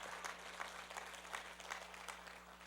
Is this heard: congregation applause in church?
yes